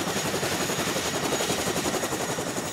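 A helicopter bringing supplies, rations, water and ammunition to a checkpoint, its rotor thudding in a fast continuous chop with a loud engine roar throughout, close and unbroken.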